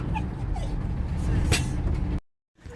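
At the start of a trip from Lanzarote to England, a dog whimpers and yips over a steady rumble of vehicle and bus noise, with some hissing before a sudden cutoff.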